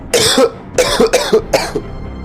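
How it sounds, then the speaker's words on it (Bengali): Four forceful, loud coughs from one person, close up, spaced roughly half a second apart with brief raspy tails and short pauses between them. "বুকের ভেতর থেকে জোরে জোরে কাশুন"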